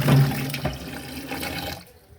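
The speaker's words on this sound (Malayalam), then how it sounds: "നമുക്ക് കപ്പ കഴുകി എടുക്കാം" Native cassava is rinsed under a running kitchen tap, giving a close, loud rush and splash of water that stops abruptly near the end, with no voices.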